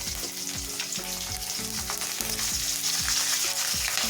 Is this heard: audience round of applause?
no